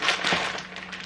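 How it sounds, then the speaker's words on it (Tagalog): Close, dense crinkling and rustling of plastic packaging, a continuous crackly texture with a few sharper crackles, no talking. "tunog ng mga plastic na ito"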